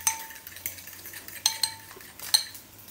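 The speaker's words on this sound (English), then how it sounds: "You will frequently see me using a fork to whisk." A fork whisks farm-fresh egg yolks in a bowl, with light rhythmic metallic taps and scrapes against the dish, clear and close with short sharper clinks.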